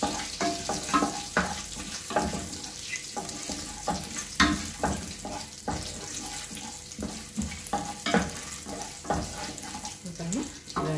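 Slit green chillies frying in a pan for egg biriyani, an uneven crackle with many small pops and scraping stirs, fairly quiet and close, with no voice.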